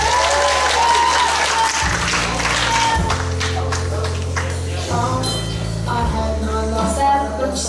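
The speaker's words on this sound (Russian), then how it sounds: "Еще раз аплодисменты!" Audience applause at a Miss pageant awards ceremony, sustained clapping throughout while loud music with a heavy bass beat plays over it and a voice is heard briefly.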